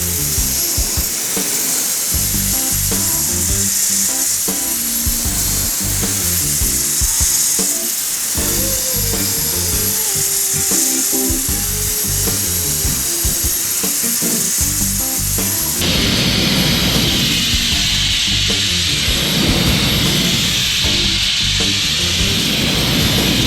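A sandblaster fitted with a fan nozzle, fed by a 425 compressor and blasting JetMag abrasive, roars in a loud continuous hiss that shifts to a harsher, denser blast partway through.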